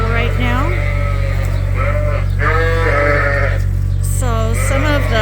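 A crowd of sheep and young ewe lambs packed into an overfull dry barn bleat over and over in overlapping calls, loud and close, above a constant low hum.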